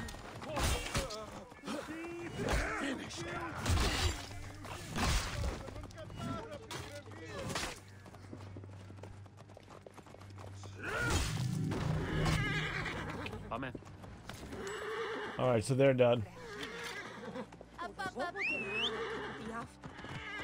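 A horse in the video game Assassin's Creed Origins whinnies several times amid clip-clopping hooves, while a player talks casually over the game sounds.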